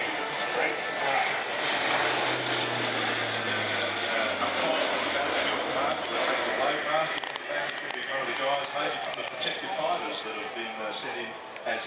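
RAAF C-130 Hercules turboprop engines droning through a tight display turn at an Avalon airshow, a steady broad roar heard from a distance with commentary and radio chatter over it.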